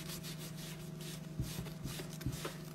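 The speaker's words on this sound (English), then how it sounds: "we are also going to sand." Sanding a chunky wooden pumpkin by hand, a continuous close scratchy rubbing with quick back-and-forth strokes and a faint steady hum underneath.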